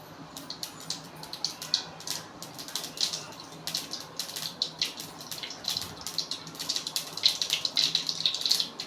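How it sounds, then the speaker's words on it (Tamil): Mustard seeds pop and splutter in hot oil while tempering for an egg thokku gravy, a dense run of sharp crackling bursts that carries on steadily throughout, fairly close and moderately loud, with no talk over it. "எண்ணெய் சூடாயிடுச்சு. கடுகு போட்டாச்சு. கடுகு பொரியுது பாருங்கள்."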